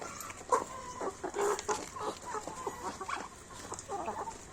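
Native darag chickens mixed with shamo gamefowl cluck and call nearby at feeding time, with overlapping short clucks and squawks continuing throughout at moderate volume.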